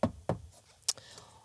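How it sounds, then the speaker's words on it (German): Knuckles rap on the wood trim inside an Ineos Grenadier cabin, two close, hollow knocks followed by a sharper third tap, quiet and spaced apart. "Wir klopfen mal auf Holz für euch."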